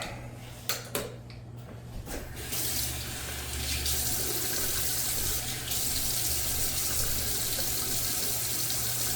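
A bathroom tap runs steadily into a sink after a few light clinks, a continuous close splashing rush of water used to wet the face, with no talking.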